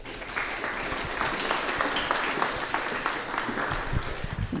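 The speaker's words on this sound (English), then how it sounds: "Let's give her a big round of applause." A startup event audience gives a modest round of applause, a steady, fairly soft patter of clapping that carries on for several seconds without building much energy.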